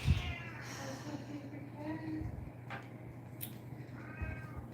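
An anxious house cat meows a few times at moderate distance, with the cries partly mixed under background noise and people talking.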